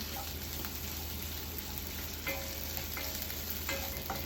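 Thai red curry paste stir-frying in a pan gives a continuous close sizzle with occasional scraping and stirring knocks, steady and fairly loud throughout with no voices.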